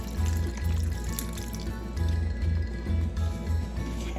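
Lemon and lime juice poured into a bowl while making a chicken quesadilla marinade, a steady liquid stream with rhythmic low gurgling pulses, close and alone.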